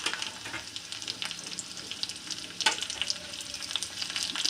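Onions fry in a pan with a close, crackling sizzle. Occasional stirring scrapes come through above the steady hiss, and no one speaks.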